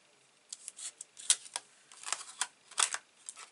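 Scissors snip through paper for a sticky note craft, a series of sharp, close, crisp cuts in an irregular rhythm, with short pauses between clusters and no talking.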